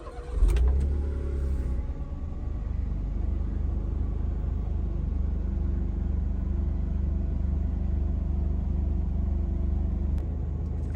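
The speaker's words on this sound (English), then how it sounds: "Let's start up the car." A 2006 Smart Fortwo with a 61hp engine starts with a short crank and catch, then settles into a low, steady idle rumble heard close up from inside the car.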